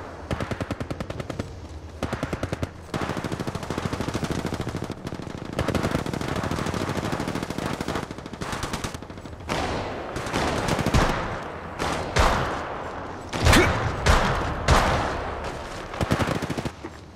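Sustained automatic gunfire in Apex Legends, long rapid bursts repeating loudly and close, with short pauses and heavier shots near the end.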